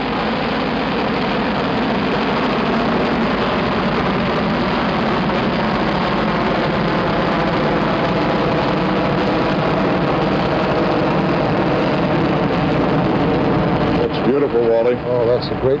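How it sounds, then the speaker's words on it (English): A rocket's engines roar at launch liftoff in a 1970s television broadcast, a loud, dense, continuous rumble that stays steady throughout, with a commentator's voice heard over it. "All engines building up thrust."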